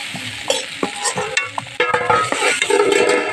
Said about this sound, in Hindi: देखिए सब्जी को चला ले रहे हैं, अच्छा से भूजेंगे।